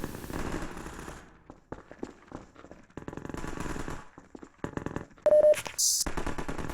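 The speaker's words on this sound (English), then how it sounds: "This is essentially the Combine's standard rifle. It's shooting!" Combine standard rifle firing in Half-Life 2: Episode One, sharp gunfire bursts scattered among game effects and music, loud and close, ending in a bright burst.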